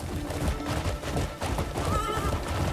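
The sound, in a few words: horse neighing in Crimson Desert video game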